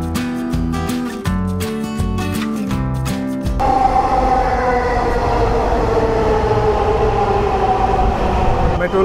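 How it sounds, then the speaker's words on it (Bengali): A Dhaka metro rail train pulls into an elevated station, its drawn-out electronic arrival chime giving way to a loud, steady rumble and whine of the train rolling along the platform. "মেট্রো রেল চলে এসেছে"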